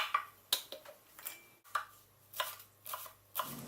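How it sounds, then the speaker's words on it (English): A knife roughly chops shallots on a cutting board, a series of close, crisp, irregular taps with short pauses between strokes, quiet and with no voices. "Then I want to roughly chop up about 3 to 4 shallots."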